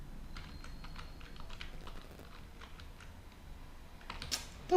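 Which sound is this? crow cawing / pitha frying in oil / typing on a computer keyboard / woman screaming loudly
typing on a computer keyboard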